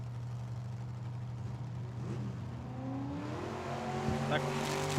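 At a dragway, a Corvette and a Chevy pickup launch, their engines droning, then revving and rising in pitch as they accelerate away. A track announcer talks over them.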